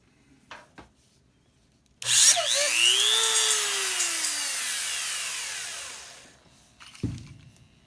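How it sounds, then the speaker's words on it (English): A power drill bores into wood, running in one continuous whine for about four seconds that slowly winds down, with a few small knocks before and a clunk after. "Put that down in a little further. Don't need to drill too far."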